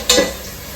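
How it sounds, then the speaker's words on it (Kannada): Onions fry in a pan on their way to golden brown: a brief scrape of stirring over a soft, steady sizzle, close by and without any voices. "ಈರುಳ್ಳಿನ ಸ್ವಲ್ಪ ಗೋಲ್ಡನ್ ಬ್ರೌನ್ ಬರೋ ಹಾಗೆ ನಾನು ಅದನ್ನ ಫ್ರೈ ಮಾಡ್ಕೊತಾ ಇದ್ದೀನಿ."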